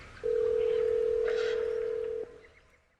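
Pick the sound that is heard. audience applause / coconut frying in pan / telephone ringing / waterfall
telephone ringing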